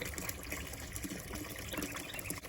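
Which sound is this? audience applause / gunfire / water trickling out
water trickling out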